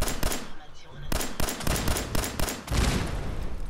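A Molotov-firing pistol in Fallout 4 going off in a series of sharp, loud bangs, roughly eight shots in irregular rhythm with a fiery crackle between them.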